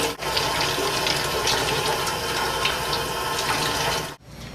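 Hot water pours in a steady, unbroken stream from a machine's outlet, a close, continuous rushing hiss that holds level for about four seconds before cutting off abruptly.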